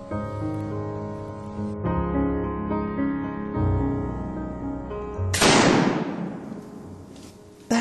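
A flintlock pistol fires on a muzzleloading hunt: a single loud, sharp report with a long rolling decay cuts in after several seconds of sustained tonal background, and a second abrupt sound starts at the very end.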